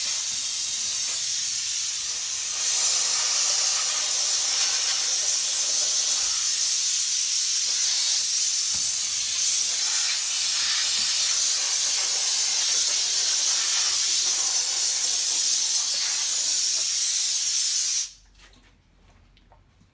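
A nitrogen spray nozzle blows breadcrumbs out of a commercial toaster with a steady, loud, close hiss that runs for about eighteen seconds, swelling slightly early on, then cuts off abruptly.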